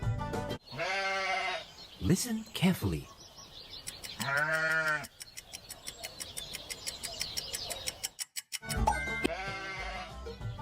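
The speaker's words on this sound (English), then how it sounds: "It's a sheep." A sheep bleats repeatedly in loud, wavering calls close by, with insect-like chirping and pulsing clicks between them and a voice speaking briefly.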